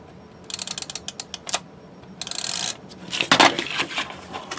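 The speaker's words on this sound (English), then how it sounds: "So I'm just going to use my tape runner on here." A handheld tape runner clicks and rasps in short bursts while adhesive is run along a paper box tab. The sound is close and crisp, with a longer ratcheting pass near the end.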